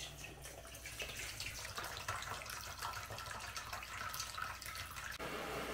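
Rinse water from cucumbers splashes and pours steadily into a sink for several seconds, a continuous rushing, gurgling flow at close range.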